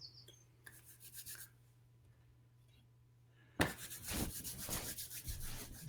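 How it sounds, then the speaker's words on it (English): Hands rubbed briskly together to warm them during a shiatsu session, a soft dry friction that starts faintly and becomes loud, steady and close after a quiet stretch, with no talking. "rubbing your hands together like this"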